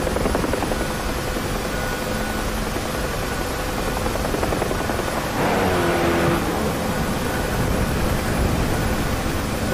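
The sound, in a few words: helicopter engine in DCS video game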